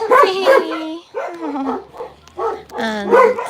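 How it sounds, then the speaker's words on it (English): Several dogs bark and yip close by at a volunteer-run animal shelter, loud overlapping bursts in an uneven rhythm that pause briefly before another loud round. "Angel's a big dog too."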